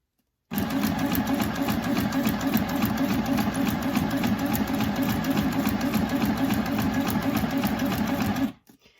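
A sewing machine stitches sequins, running in a fast, even mechanical whir that starts abruptly and stops near the end, close and alone.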